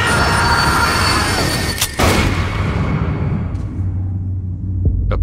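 Loud, steady rumble of a moving train with layered mechanical roar, punctuated by a couple of sharp impacts, then thinning to a low drone with no voices.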